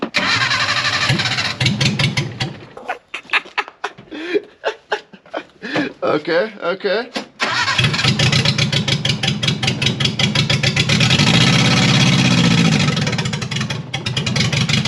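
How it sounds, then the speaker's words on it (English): A modified Ford F450 truck with earlier running trouble cranks with a choppy, stuttering starter whir and catches. It settles into a loud, rough, rumbling idle that fills the rest of the stretch, with someone talking briefly nearby. "Let's fire her up, see if she runs any better."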